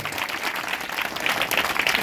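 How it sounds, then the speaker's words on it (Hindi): A church congregation at a New Year revival sermon in Raipur claps loudly and continuously, a dense burst of applause filling the short moment, close and unbroken. "प्रभु यीशु के लिए जोरदार ताली बजाओ।"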